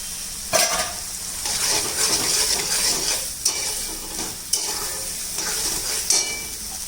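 Green chickpeas go into a thick gravy frying in a pan for a Surendranagar-style green chickpea sabzi, with a loud, steady close sizzle throughout and a few sharp spoon clinks against the pan.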